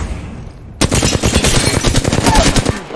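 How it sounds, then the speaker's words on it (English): Rapid automatic gunfire in a video game bursts in abruptly after a quiet moment and continues as a loud, dense rattle of close shots. "I'm taking shots."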